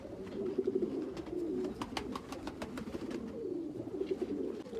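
Caged pigeons, among them one with green rings, coo in low repeated throbbing calls that carry on steadily through the whole stretch, close by and fairly soft, with no voices over them.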